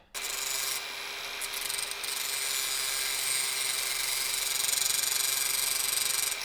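A power tool grinds a point onto the end of a cheap M6 screw, a continuous loud, close, high whine and rasp of metal on the abrasive, holding steady for several seconds.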